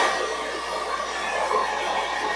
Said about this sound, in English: So you're blow drying this root area straight up in the air.